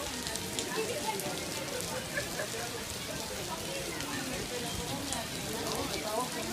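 Florida rain pours down at Universal on a parade day, a dense, steady hiss of drops on surfaces with faint voices murmuring beneath it.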